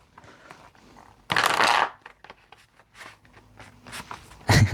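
Tarot cards are riffled in a loud burst, then handled and tapped with soft clicks and rustles, ending in another quick shuffle, all close up.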